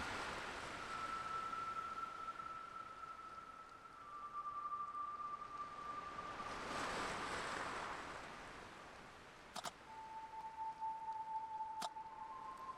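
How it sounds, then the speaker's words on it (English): Ocean waves from a horror visual novel game, a soft, distant wash of surf that swells and recedes at low volume, with thin sustained tones ringing above it and no voices. "The sound of the waves has a unique quality to it."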